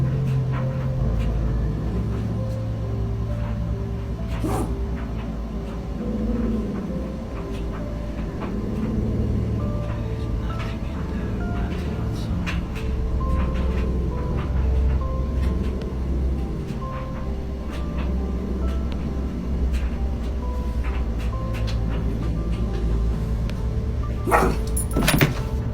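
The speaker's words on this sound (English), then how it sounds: "They heard noises in the room whilst their dog was barking" A dog barks inside a house with repeated sharp barks scattered across a long, noisy recording, under a constant loud rumbling background hum.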